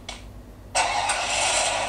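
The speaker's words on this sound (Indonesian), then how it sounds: "Ini mobil bisa dipakai nih ya?" A car engine starting in the mobile shooter Free Fire: a short click, then a sudden loud, steady engine roar that holds to the end.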